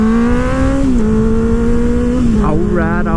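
A 2024 Kawasaki Ninja ZX-6R runs close and loud on the street, its steady engine tone holding through the clip before wavering and climbing in pitch near the end.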